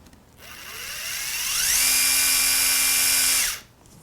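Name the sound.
impact driver running at higher speed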